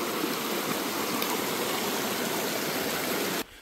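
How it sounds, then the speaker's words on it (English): A creek at a John Muir Trail crossing rushes in a steady, loud, broadband wash of flowing water that holds constant and then cuts off abruptly near the end. "A creek crossing here."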